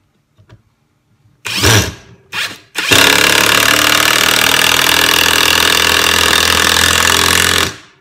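A Mensela 18V cordless impact wrench drives a 3-inch screw into wood, two short bursts of loud, harsh hammering rattle and then one long sustained run that stops abruptly, close and alone.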